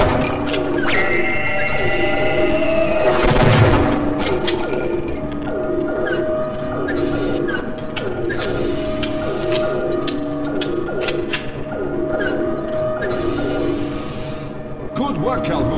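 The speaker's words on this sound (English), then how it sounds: "Now keep turning the crank until the pressure level reaches normal." A valve crank in Half-Life: Blue Shift is turned, with a steady run of repeated metallic clicks and ratcheting against an industrial hum, plus a louder clank partway through.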